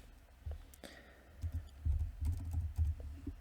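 Code being typed on a computer keyboard, heard as close, quiet, irregular clusters of key clicks and taps over a few seconds with no talking.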